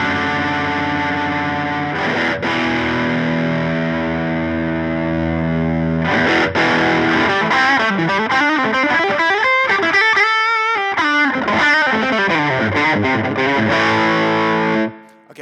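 Electric guitar through a Dude overdrive pedal alone: sustained, crunchy distorted chords ring for several seconds, then a busier passage of bending, shifting notes, loud and close, ending with a quick cutoff.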